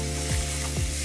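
Jerk chicken wings sear in a hot pan with a steady, loud sizzle and frying crackle, accompanied by two brief low scraping movements, with no talking.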